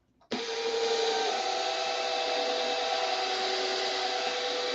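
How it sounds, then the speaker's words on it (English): Steady abrasive hiss of a power sander working the metal finish of a SIG Magnum pistol, starting abruptly and running loud and continuous with a faint motor whine, no voices. "It needs some more sanding."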